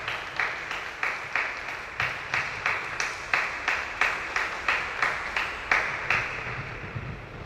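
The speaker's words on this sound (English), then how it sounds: "Let's give him a huge and loud clap and welcome him to our parish community." A church congregation claps in a steady, rhythmic beat, each clap sharp and roomy, repeating evenly throughout with a slight reverberant tail in the parish hall.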